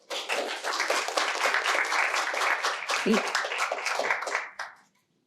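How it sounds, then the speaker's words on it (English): A seated audience at an election monitoring presentation gives a big round of applause for an ambassador, dense steady clapping that holds for over four seconds, then cuts off abruptly, with a brief voice midway. "Let's give him a big round of applause."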